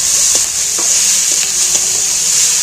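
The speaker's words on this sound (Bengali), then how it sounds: "পেঁয়াজটা ভাজা হয়ে গেছে" Chopped onions frying in a pan for chicken curry, a loud, steady close sizzle with a few light stirring scrapes of a spatula.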